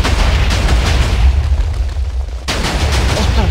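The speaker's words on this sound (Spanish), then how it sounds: "¡Ostras! Siguen las explosiones." Loud, rumbling blasts follow one another in a dense chain of booming Minecraft TNT explosions with crackling debris, near and continuous.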